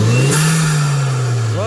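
Close, loud revving from a 2-litre Hyundai Genesis turbo engine installed in a Gazel truck: one sharp throttle blip swells, then holds and settles back toward idle.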